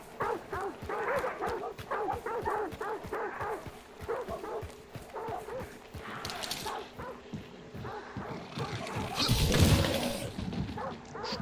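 Hunting dogs bark repeatedly in a hunting video game, a steady run of close, overlapping woofs and yips, joined toward the end by a louder burst of noise.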